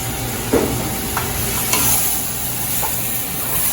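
Sausage and diced tomatoes being stirred in a hot pot, a steady sizzle and hiss with a few soft scrapes of the spoon, close and moderately loud.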